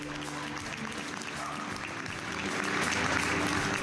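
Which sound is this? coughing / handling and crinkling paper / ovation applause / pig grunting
ovation applause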